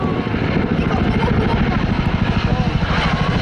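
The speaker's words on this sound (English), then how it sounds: "And there she goes, listen to that blade slap" Chinook twin-rotor helicopter passing at an airshow, its blades thumping in a loud, fast, steady rhythmic slap over heavy engine roar, with a voice talking over it.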